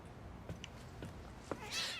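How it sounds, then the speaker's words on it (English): A cat in the video game The Medium gives a short, faint meow near the end, over a quiet background with a few soft footsteps or thuds. "Look, there's a cat."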